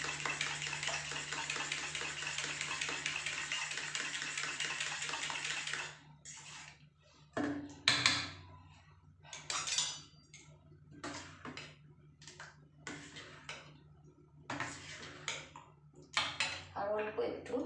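A spoon whisks malpua batter in a bowl, with a steady scraping wash at first, then quick irregular clinks and taps against the bowl.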